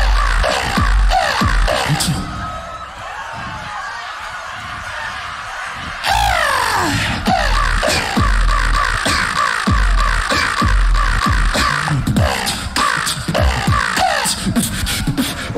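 Crow cawing, loud and repeated in a busy irregular pattern over about fifteen seconds, with a noisy stage crowd and performance atmosphere around it and bursts of cawing calls throughout.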